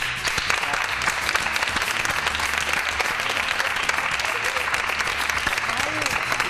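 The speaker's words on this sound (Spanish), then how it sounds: "yo quiero dar un fuerte aplauso a ellos dos" Steady, dense applause from a studio audience on a Spanish television programme, honouring two guests at the show's farewell; continuous clapping fills the whole stretch without a break, with faint voices mixed in beneath it.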